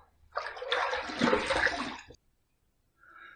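Water from a tap runs in a short burst for about two seconds while a razor is rinsed after a shave, close and fairly loud, then stops abruptly.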